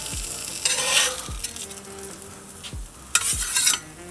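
Fried onions being scraped and lifted off a hot barbecue griddle with a spatula, with a steady sizzle and several sharp metal scrapes against the plate.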